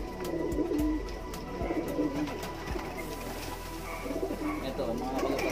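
Pigeons coo softly in a training box, with some rustling and faint background voices throughout.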